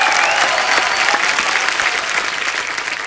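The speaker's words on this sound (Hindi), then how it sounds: "बरेली की बर्फी की टीम के लिए जोरदार तालियां।" Studio audience of The Kapil Sharma Show applauding the Bareilly Ki Barfi team: dense, steady, loud clapping with crowd noise filling the whole stretch, no talk over it.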